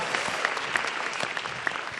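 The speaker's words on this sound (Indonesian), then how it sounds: "Beri tepuk tangan sekali lagi untuk Yono Bakri" Audience applause rings out for comedian Yono Bakri at the Grand Final of the Suci X stand-up comedy event, a brisk, dense burst of clapping with a few sharper individual claps standing out.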